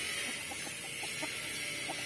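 Chickens and roosters at a poultry farm housing gamefowl bloodlines give off scattered short clucks over steady farmyard hiss, fairly faint and spread across the moment, with no talking.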